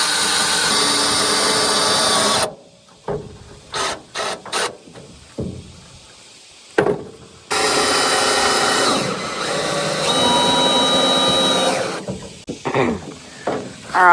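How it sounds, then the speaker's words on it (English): Power driver sinking screws to fix a pond feeder to a wooden dock: long whirring runs, close and loud, at the start and again later, separated by short bursts, knocks and quieter gaps. "we're gonna screw it to the dock really well and put 4, 5, 6 screws in the bottom of this feeder"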